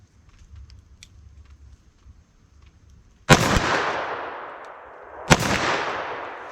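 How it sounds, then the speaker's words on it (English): Two loud .357 Magnum revolver shots fired double action, about two seconds apart, each a sharp crack followed by a long echoing decay outdoors, after a quiet stretch of faint background noise. "I'm gonna fire a couple double action with this"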